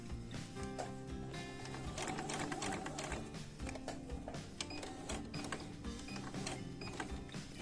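Sewing machine stitching binding onto a quilt, a steady mechanical whir with rapid needle chatter running continuously and fairly close, with brief pauses and restarts.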